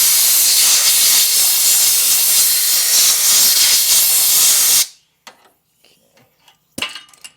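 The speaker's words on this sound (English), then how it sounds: "Blow that off with some air." Compressed air blasts loudly and steadily in a close, continuous hiss as it blows brake cleaner off a part from a yard sale tractor, then cuts off abruptly, leaving a few faint clicks and knocks.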